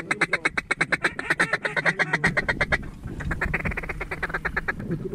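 Ducks quack loudly and rapidly during a duck and goose hunt, first a dense rhythmic run of close calls, then a looser, slightly fainter chorus with a low rumble beneath.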